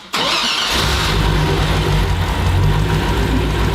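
A food truck's engine cranks on the key and catches, settling into a loud, steady idle with a strong low rumble that continues to the end, with no talking.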